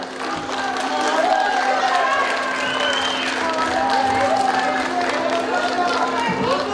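Concert audience applauding at a Russian chanson concert marking a chanson museum's anniversary, a sustained even wash of clapping under a voice speaking over the crowd.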